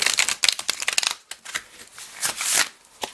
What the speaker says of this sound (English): We can also do a riffle shuffle.